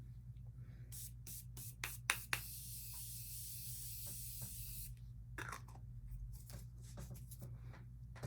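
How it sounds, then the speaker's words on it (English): Maracuja Miracle Mist sprayed onto a face indoors: a close, steady hiss of fine spray lasting about two seconds, with soft handling clicks and taps before and after. "So let's spray it on my face."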